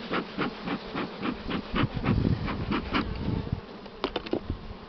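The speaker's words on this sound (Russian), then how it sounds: "Пчелок я сгоняю, чтобы не придавить" Honeybees buzz close by at an opened hive during nest expansion, in a dense, wavering hum, with individual bees zipping past the microphone in brief louder surges.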